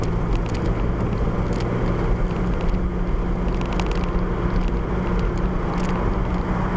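A 2001 Toyota MR2 Spyder engine drones steadily held at 3,500 RPM, a loud continuous rumble with an even tone, close by and without talk.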